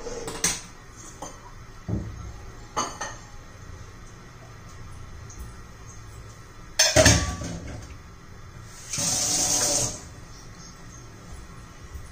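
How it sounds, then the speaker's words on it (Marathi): A metal kadhai wok clanks onto a gas stove with a few knocks and scrapes, then a short burst of hissing gas flaring up; quiet kitchen background between. "आता आपण गॅसवर कढई गरम करण्यासाठी ठेवूया"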